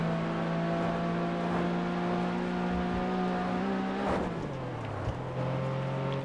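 Car engine in Test Drive Unlimited 2 droning steadily at high revs as it drives fast, the pitch holding level before dipping and falling away near the end, loud and continuous with no talk.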